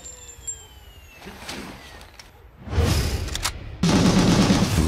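Gunfire in the video game Gungrave G.O.R.E, a dense, loud barrage of shots and booms that builds from scattered bursts into a continuous roar of fire.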